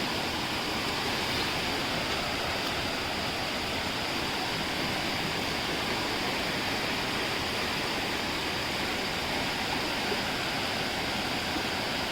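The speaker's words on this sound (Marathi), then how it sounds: "पाण्याचा प्रवाह बघा किती वाढला आहे" Rushing water pours continuously, a dense, steady roar of a river swollen by heavy rain in Konkan, churning past, with no voices.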